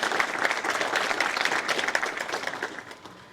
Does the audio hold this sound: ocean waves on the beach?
no